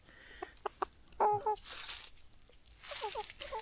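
Chickens in a forest in the morning, several short clucks and calls in bursts at close range, with a faint steady insect-like whine in the background.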